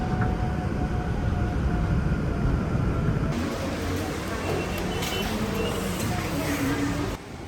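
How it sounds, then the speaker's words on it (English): A DP Wangsa train pulls into a station in Kuala Lumpur with a loud, steady rumble and hiss of rolling carriages, the roar softening as the train slows near the end. "And our train just pulled up."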